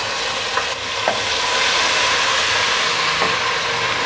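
Garlic ginger paste dropped into a pan of onions frying in oil, setting off a loud, steady sizzle with a few stirring clinks close up; no voices.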